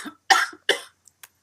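Two sharp, close coughs come in quick succession, followed by a couple of faint clicks and then silence.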